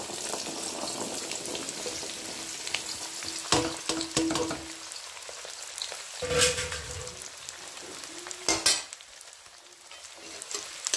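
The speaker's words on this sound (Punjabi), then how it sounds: "ਥੋੜ੍ਹਾ ਜਿਹਾ ਪਹਿਲਾਂ ਆਮਲਿਆਂ ਨੂੰ ਆਪਾਂ ਰੋਸਟ ਕਰ ਲਈਏ" Amla (Indian gooseberries) sizzle and roast in hot oil in a frying pan on a gas stove, a steady crackling fry with a few louder spatters and stirring scrapes, no talk.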